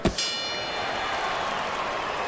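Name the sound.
final round bell in Fight Night Champion boxing video game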